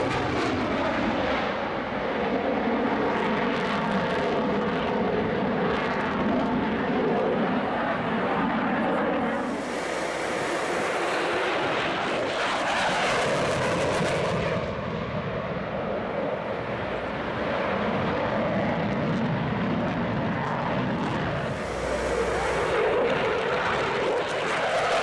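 Military jets, including an F-16 and CF-18 Hornets, fly over the Cold Lake Air Show, a steady loud roar of engine noise swelling and fading across the field for the whole stretch.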